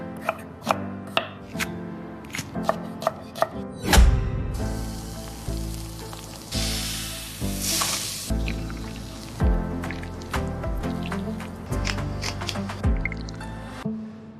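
Vegetables are chopped with a knife on a board in an AI-generated cooking scene for pasta, sharp rhythmic cuts close by, followed by a burst of sizzling and wet squishing, more chopping strokes scattered throughout.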